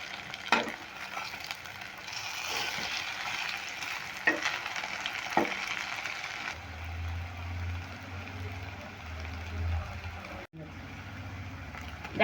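Pumpkin-leaf and red lentil paste fritters fry in a pan with a steady, close sizzle and scattered sharp pops, the crackle easing into a softer, lower bubbling hum for the last few seconds.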